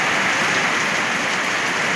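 Heavy rain pours down steadily in a dense, loud, unbroken hiss with no voices.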